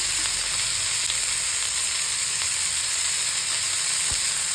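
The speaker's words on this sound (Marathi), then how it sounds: "आणि चांगलं भाजून घ्यायचं मस्त" Garlic, tomato and ginger fry in a pan for a mixed sprouted-legume curry, producing a steady close sizzle and hiss throughout with no speech.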